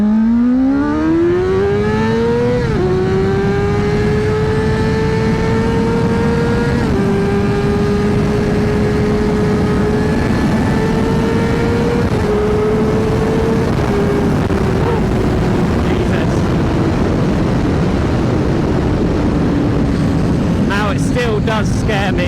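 A Honda CBR600RR 600cc sport motorcycle accelerates, its engine climbing in pitch through several shifts under heavy, constant wind roar, loud and close throughout.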